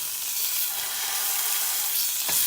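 Beef for a slow cooker pot roast browning in a pan, a loud, even sizzle that fills the whole stretch, close up, with a brief knock near the end and no voices.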